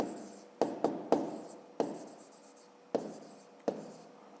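Pen or pencil writing out a fifth-grade maths exercise on paper, close and quiet, with sharp taps at each new stroke and soft scratching between them, about seven bursts with no voice.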